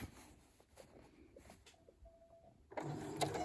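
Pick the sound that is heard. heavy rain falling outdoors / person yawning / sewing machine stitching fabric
sewing machine stitching fabric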